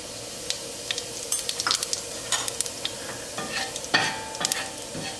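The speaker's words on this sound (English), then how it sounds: "We're going to add 1 teaspoon cumin seed," Cumin seeds crackle and sizzle in hot oil, with bright popping and spattering and a spoon stirring and scraping the pan throughout.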